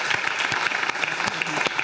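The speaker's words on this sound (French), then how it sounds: "On peut vous applaudir." Audience applause at an awards ceremony for attractiveness trophies, a brief burst of clapping with distinct individual claps standing out from the crowd noise.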